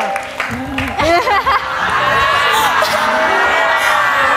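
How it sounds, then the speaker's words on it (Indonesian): A studio audience claps and whoops loudly for a dance group, steady dense applause building and holding, with shouting voices and cheers mixed over it. "Semangat sekali tepuk tangan buat Soreng"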